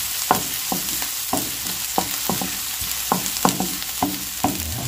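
Shrimp sautéing in a hot pan gives a steady bright sizzle, with regular scraping stir strokes about every half second.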